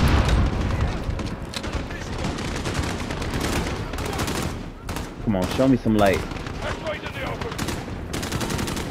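Rapid bursts of gunfire from the video game Call of Duty: Modern Warfare (2019) crackle repeatedly under a voice, with steady background noise throughout.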